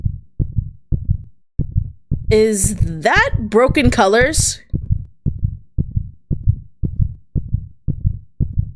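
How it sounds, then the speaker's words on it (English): A rapid heartbeat sound effect thumps in a steady low pulse, roughly two beats a second, loud and close, while someone speaks briefly over the middle stretch. "I could hear my heart beating rapidly."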